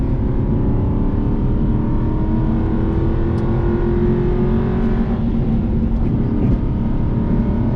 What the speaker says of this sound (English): it's got that low rumble, like a naturally aspirated American V8